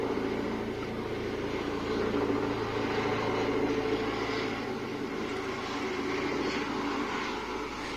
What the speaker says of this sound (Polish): Przepraszam, helikopter przelatuje.